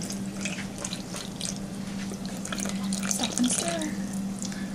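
Water poured into self-rising flour for dumpling dough gives a soft, steady trickling and splashing at moderate level over a low hum, with no talk.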